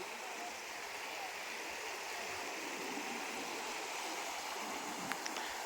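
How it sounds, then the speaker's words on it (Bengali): Continuous rushing of a fast-flowing mountain river, a steady broadband babble of water heard close, with no voices over it. "আশা করি জলের কলরবটা শুনতে পাচ্ছ"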